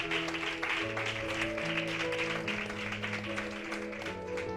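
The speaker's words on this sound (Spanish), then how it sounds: "Pido para ella un aplauso." Applause at a book launch: a fairly faint, steady patter of clapping from a crowd, with musical tones underneath.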